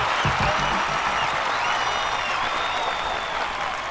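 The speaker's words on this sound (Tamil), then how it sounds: "உங்களோட இந்த கைத்தட்டல் நான் சம்பாதிச்சது கிடையாது" Audience applause and clapping fill the hall, loud and dense throughout, with a burst of sharper claps near the start and faint crowd noise underneath.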